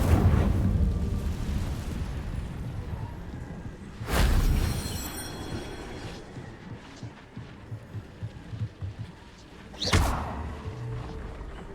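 Incendio fire spell cast in the video game Hogwarts Legacy, two sharp whooshing bursts of flame several seconds apart over a low rumbling background with scattered soft thuds.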